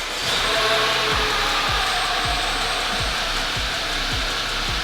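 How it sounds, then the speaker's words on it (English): A car engine with a vacuum leak runs at a steady idle with a broad, airy hiss over it and a faint regular ticking pulse underneath. "It sounds like it's got a vacuum leak."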